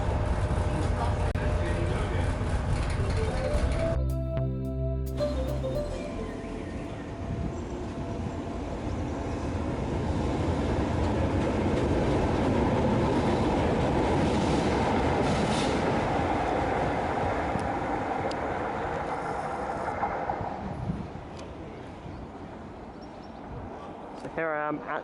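A Tyne & Wear Metro train rumbles and rattles steadily nearby under the old train shed at Monk Seaton station, with wheels clattering on the rails and a brief sharp squeal early on.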